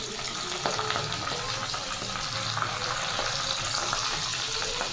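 Ghee heats with betel leaves in a pan, giving a continuous close, crackling sizzle and bubbling with small pops throughout.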